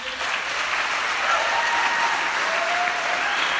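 An audience at a Kauai tribute concert honoring Delia and Paul bursts into steady, dense applause that holds at full strength throughout, a large crowd of clapping hands with no break.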